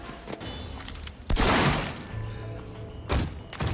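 Gunfire in the open-world action game Sleeping Dogs, a few loud, sharp shots and impacts that burst out separately between quieter stretches of game background.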